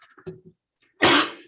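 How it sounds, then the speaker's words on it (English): A person sneezing during a public board meeting, one loud, breathy burst after a few soft, scattered sounds. "I hope you noticed I did the Dracula sneeze"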